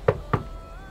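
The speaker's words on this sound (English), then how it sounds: "This door or that door? I think this one. Knock," Two quick knocks on a door in the video game Lake, close and sharp, spaced about a quarter second apart, with nothing else around them.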